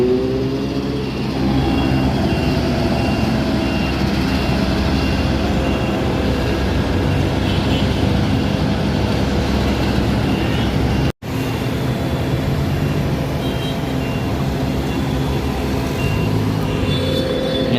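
Heavy trucks and machinery rumble loud and steady through road construction and asphalt laying on EDSA, a dense continuous drone with no talk and one brief dropout partway through.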